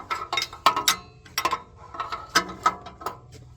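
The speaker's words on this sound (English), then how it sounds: "So now we're just gonna tighten her up a little bit, like so. Well, if I can get my wrench on those." A wrench ratchets against an O2 sensor being tightened on a 2023 Nissan Pathfinder: quick bursts of sharp, close clicking in short irregular strokes, with no talk.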